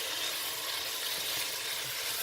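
Beef pieces fry for a Pakistani-style karahi, giving off a steady, even sizzle that hisses continuously without pause.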